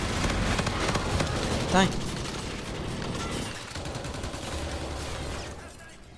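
An enemy turret in the Call of Duty: Infinite Warfare video game fires a sustained, rapid volley of shots, with dense mechanical clatter under a man's brief exclamation.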